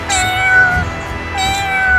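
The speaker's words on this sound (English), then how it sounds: "cat" Two drawn-out cat meows, loud and close, the second following after a short pause, with no voices.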